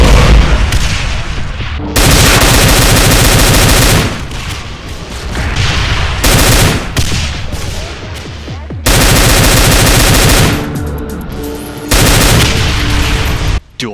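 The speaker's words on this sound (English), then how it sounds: "It has dual barrages of straight rockets," Rapid rocket barrages from a Cyberdemon in a modded DooM game, loud dense bursts of repeated firing and booming impacts in several long waves separated by brief gaps, with no talk.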